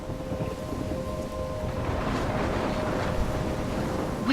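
Thunderstorm in the video game Life Is Strange: a steady wash of heavy rain with low rumbling thunder rolling underneath, constant and moderately loud throughout, no voices.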